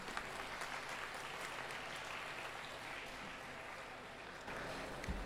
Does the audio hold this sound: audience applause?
yes